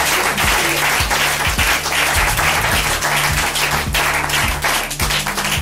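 A church congregation bursts into loud, sustained applause, a dense wall of rapid clapping with a steady low thumping underneath throughout.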